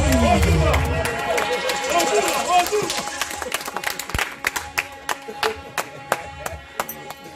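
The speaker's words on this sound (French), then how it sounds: "Nous allons applaudir Douglas." Applause from an audience, starting as a dense wash of clapping that thins into scattered, sharp individual claps toward the end.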